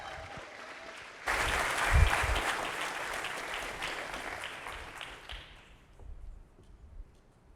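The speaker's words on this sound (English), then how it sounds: "Let's keep it going, keep clapping." Conference audience at a startup pitch competition breaks into applause, a sudden burst of many hands clapping with a couple of thumps, holding steady for a few seconds and then fading to scattered claps.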